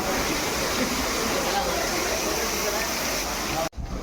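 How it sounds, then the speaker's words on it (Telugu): The Uma Maheswara temple waterfall in the Nallamala forest gives a steady, dense rush of falling water, loud and continuous, then cuts off abruptly near the end. "ఒకసారి వాటర్ ఫాల్స్ చూడండి ఎంత అంటే ఎంత పీస్ఫుల్గా ఉందంటే"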